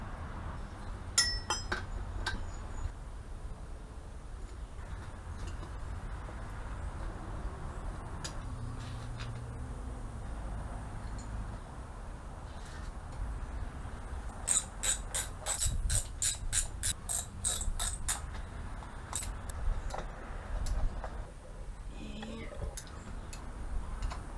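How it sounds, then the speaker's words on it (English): Ratchet wrench working the valve cover bolts on a 1959 Vespa car engine, giving bursts of quick metallic clicks and ticks with occasional clinks against a steady background hum, close by and moderately loud. "I'm just going to take the bolts out of the top and loosen the bottom."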